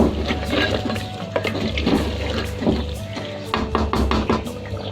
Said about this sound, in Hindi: तो हमने 10 मिनट तक इसकी भुनाई करनी है मीडियम फ्लेम पर